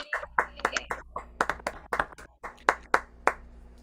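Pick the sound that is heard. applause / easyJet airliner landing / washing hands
applause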